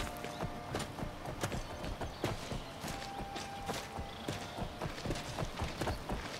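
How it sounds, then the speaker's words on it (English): Steady clip-clop of horse hooves trotting close by in a rapid, irregular rhythm in a video game, with a brief whinny, no talking. "Can we call in our horse into this area?"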